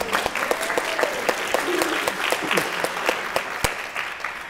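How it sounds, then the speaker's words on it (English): Audience applause at a summit talk, a dense patter of many hands clapping steadily throughout, moderately near with no voices rising above it. "round of applause."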